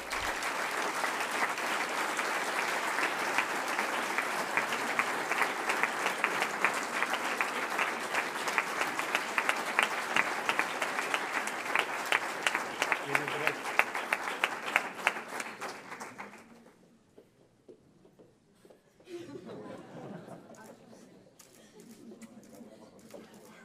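Loud, sustained applause fills an entrepreneurship awards ceremony in Fuenlabrada for an award winner, dense clapping for about sixteen seconds before it cuts off and quieter talk follows.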